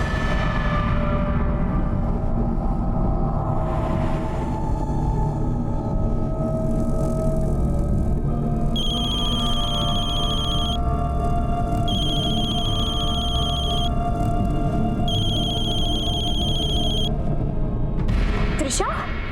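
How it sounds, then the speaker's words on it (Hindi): A telephone rings repeatedly and goes unanswered, its bursts of tone cycling at regular intervals over a steady low rumble and dramatic background music. "माँ बेल तो जा रही है लेकिन फोन नहीं उठा रही है।"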